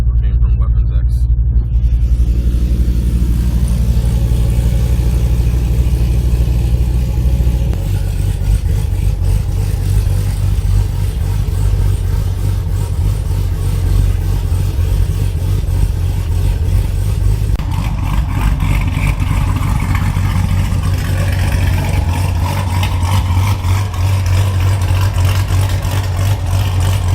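A supercharged Corvette C7 Z06 with a Weapons X cam, custom Weapons X blower and port injection, running with a loud, steady, deep idle rumble and a choppy lope, heard close throughout with some revving late on.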